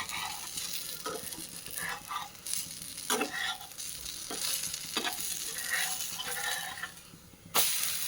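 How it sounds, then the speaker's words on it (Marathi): Moong dal chilla fries in a pan, giving a soft steady sizzle punctuated by scraping and stirring clicks from a spatula, close and moderately quiet. "त्याला आपण थोडंसं शिजू देऊ, फ्राय होऊ देऊ त्याला थोडंसं."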